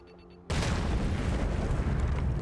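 A sudden loud blast in the video game Last Day on Earth: Survival erupts after a brief quiet moment, followed by a sustained rumbling roar that fills the rest of the clip.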